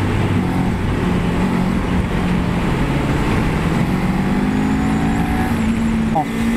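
A 2024 Kawasaki Ninja 500 parallel-twin motorcycle accelerates in fourth gear, its engine tone climbing steadily under heavy wind rush, with a rider's voice present.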